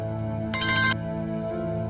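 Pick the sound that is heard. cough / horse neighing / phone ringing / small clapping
phone ringing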